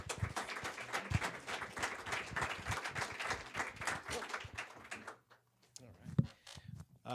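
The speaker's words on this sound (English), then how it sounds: "give them a round of applause" An audience applauds as a panel is brought up, a sustained dense clapping that fades out after about five seconds into a quiet room with a few faint knocks.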